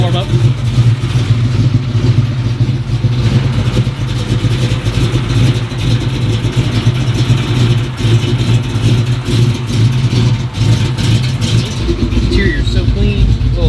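A turbo-swapped Humvee engine idling cold while it warms up, a close, steady low rumble that runs throughout under nearby conversation.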